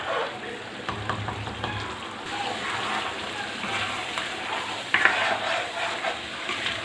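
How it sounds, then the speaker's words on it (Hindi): Chicken karahi masala with softened tomatoes frying in oil in a pan, a steady close crackling sizzle throughout with occasional brief stirring scrapes. "अब हमें उस वक्त तक इसे पकाना है जब तक कि इसका जो ऑयल है वो ऊपर ना"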